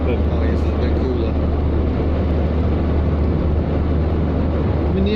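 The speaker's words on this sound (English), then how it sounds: "the engine is not powerful, but now we've fiddled with the carb and the timing, it is at least pulling pretty cleanly most of the time" An old, underpowered car engine with a recently adjusted carburettor and timing drones steadily while driving on a road in Slovenia, a loud constant low hum with road noise and no break.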